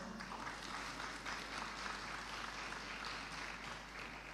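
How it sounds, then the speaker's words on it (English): Audience applause at an afternoon session of a university science symposium, a steady wash of clapping that holds evenly from start to finish with no voices over it. "let's give him a round of applause."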